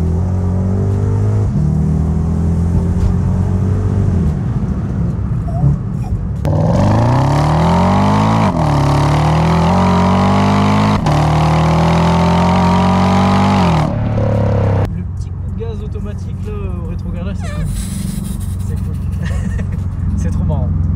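A Lexus IS-F's engine roars loudly from inside the car, its pitch climbing hard through the gears with crisp upshifts before settling into quieter cruising.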